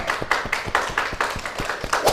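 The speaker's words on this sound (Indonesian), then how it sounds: "silakan berikan tepuk tangan" A small group claps in a classroom performance assessment, a short run of distinct, fairly regular claps close by with no talk.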